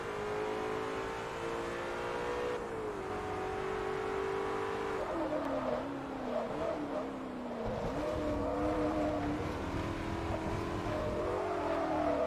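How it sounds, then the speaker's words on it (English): A V8 race car engine in Forza Motorsport 3 drones steadily and loud, its pitch stepping up and down through gear changes and revs over the whole stretch, with a faint tire squeal at times. "I think this car ran with a V8, if I'm not mistaken"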